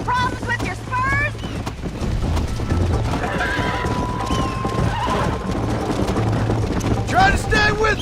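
In a cowboy video game a horse whinnies repeatedly over continuous galloping hoofbeats, loud and close, with shouting voices mixed in throughout.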